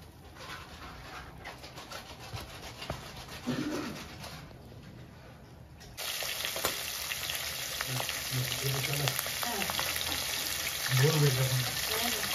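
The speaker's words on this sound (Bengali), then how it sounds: "মাছ ভাজাটা দেখিয়ে দিই।" Rohu fish pieces fry in hot oil with a steady crackling sizzle that grows louder partway through, while low voices and a dog's bark can be heard faintly in the background.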